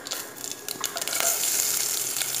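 Small shallots and garlic hitting hot coconut oil with mustard seeds, a loud close sizzle that swells after a second and holds steady, with a few stirring scrapes.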